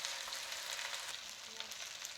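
Chicken pieces frying in oil, a continuous faint bright sizzle with a few small crackles, steady and close throughout.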